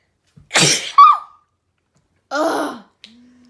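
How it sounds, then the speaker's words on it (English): A close, loud sneeze with a sharp intake and explosive burst, followed after a pause by a second strained vocal exhale and a faint click. "I felt like I had to sneeze for so long."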